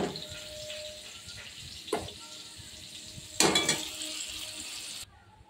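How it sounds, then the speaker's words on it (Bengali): Pointed gourd pieces fry in oil in a wok, giving a soft continuous sizzle with a few sharper bursts of spattering and clatter from stirring, then quieting abruptly near the end. "লাল লাল করে পটলগুলো আমি ভেজে নিই।"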